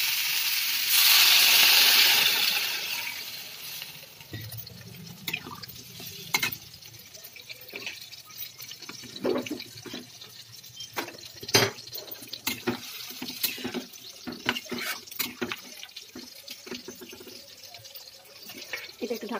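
Hot water poured into frying potatoes and pointed gourd in a curry pan, with a loud hissing sizzle burst for a few seconds, then a quieter bubbling simmer broken by scattered clinks of a stirring utensil.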